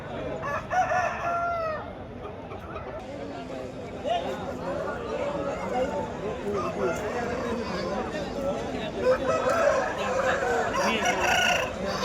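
Roosters crowing repeatedly at a chicken market in Peeleru, several loud calls amid clucking fowl and people talking nearby.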